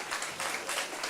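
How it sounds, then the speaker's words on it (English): Brief audience applause for Mike at a Philadelphia neighborhood event, a short burst of fairly faint, dense clapping. "Give Mike a round of applause."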